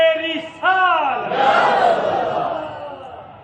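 At a religious gathering for 11 Rabi al-Awwal, a leader's drawn-out call is answered by a loud, sustained crowd shout of a religious slogan that swells and then fades.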